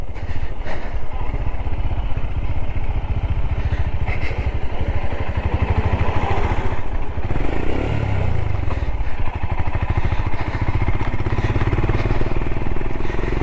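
A Royal Enfield Himalayan motorcycle on the move, its steady engine drone and chassis clatter loud and close throughout, mixed with wind rush and no clear speech.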